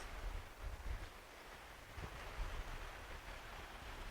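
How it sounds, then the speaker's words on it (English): Soft, continuous ocean surf washes in the background, a faint low rumble with gentle swells rising and falling and no talking. "this beautiful ocean that you hear in the background"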